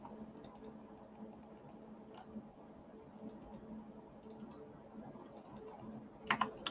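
A command being typed on a computer keyboard in AutoCAD 2020, heard as scattered soft key clicks in small bursts, then a louder cluster of presses near the end, close and quiet with no talking.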